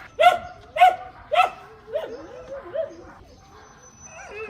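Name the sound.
dogs barking, rescued Yulin survivors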